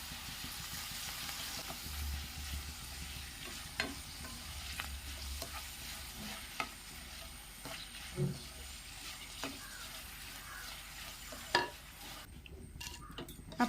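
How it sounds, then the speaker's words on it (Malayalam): Pappadam fries in hot coconut oil in a kadai, a soft continuous sizzle with light stirring clinks and scrapes against the pan at irregular intervals. "വെളിച്ചെണ്ണ ചൂടാകുമ്പോൾ നമുക്ക് ഈ പപ്പടം മുഴുവൻ പൊള്ളിച്ചെടുക്കാം"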